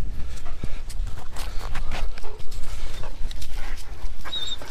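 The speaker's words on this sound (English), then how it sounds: "This is another of our dogs." A dog moves around outdoors, its footfalls making uneven clopping and scuffling sounds over a steady background of outdoor noise, fairly close.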